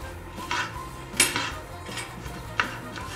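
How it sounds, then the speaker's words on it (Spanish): A knife on a cutting board chopping strawberries for a yogurt dessert in a kitchen, a few separate light taps and knocks spaced irregularly, with faint clatter between them. "Vamos a picar unas fresas"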